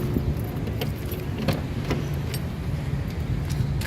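Car keys for a 2010 Toyota Avanza 1.3 G manual, whose remote is broken, jingle and clink in light, scattered metallic taps. A steady low hum of the vehicle and its surroundings sits underneath, with no talking.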